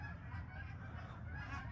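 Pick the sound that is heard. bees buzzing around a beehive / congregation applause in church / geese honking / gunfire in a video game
geese honking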